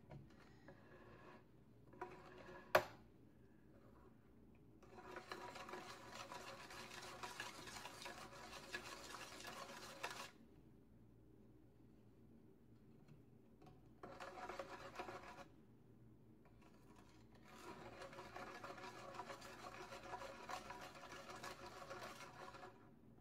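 Thick homemade clay mud mask being stirred and mixed in a bowl, a close, soft scraping and rubbing that comes in long bursts separated by quieter pauses, with one sharp tap early on and no talking.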